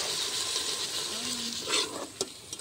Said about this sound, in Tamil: நாங்கள் வெங்காயம் தக்காளி வதக்குவோம்